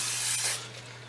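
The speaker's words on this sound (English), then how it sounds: "Just going to spray that lightly with oil." Cooking oil sprayed lightly into a bowl for pizza dough: one short, close burst of airy hiss, about half a second long, that quickly fades.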